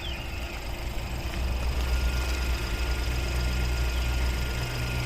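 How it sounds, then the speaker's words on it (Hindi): A Skoda Kushaq 1.0 engine idles, heard from outside the car as a steady, quiet low rumble with an even hum that holds constant throughout. "अब बाहर से आपको इसका इंजन साउंड सुनाता हूँ।"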